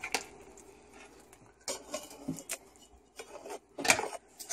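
Spoon scraping and clinking against a bowl while pumpkin puree is stirred into cake batter, irregular close taps and scrapes with short pauses between strokes.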